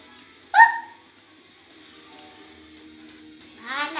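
A Snarl move in Pokémon Sword plays a short, sharp synthetic bark-like burst near the start, followed by quieter game tones and a brief rising electronic sweep at the end.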